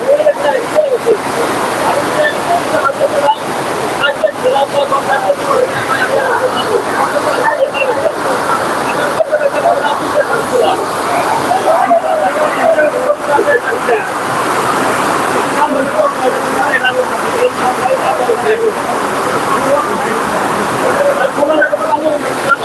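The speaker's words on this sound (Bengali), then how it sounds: "প্রচুর বৃষ্টি হচ্ছে" Heavy rain pours steadily over a riverside market, a loud unbroken roar and patter that fills the whole stretch while a person talks over it.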